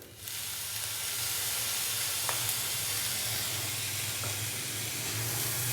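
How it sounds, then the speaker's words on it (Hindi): Finely chopped onion going into a pan of keema for samosa filling, giving a steady, close sizzle with faint hissing and a few light clinks over it, and no talking. "तो अभी मैं इसके अंदर डालूंगा प्याज।"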